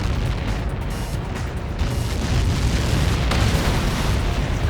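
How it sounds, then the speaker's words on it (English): A massive sustained explosion roars in the Ace Combat video game as the Arsenal Bird is struck, a loud, dense, continuous rumbling blast filling the whole stretch with no speech. "How many got caught in that explosion?"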